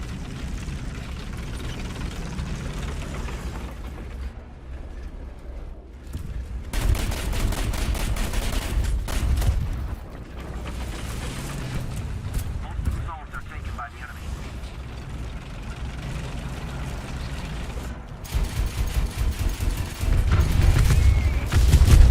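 A VEAK 40 self-propelled 40 mm anti-aircraft gun firing in War Thunder: loud rhythmic bursts of heavy cannon shots over engine rumble, repeating through the scene with talk over them.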